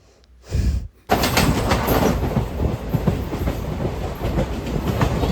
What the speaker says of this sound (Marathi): बिल्डिंगच्या मध्येतच ट्रेन आली